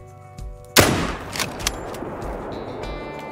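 A single sharp, loud .303 rifle shot cracks while hunting wild boar in Call of the Wild, followed by a rolling echo and faint later thumps over quiet outdoor ambience.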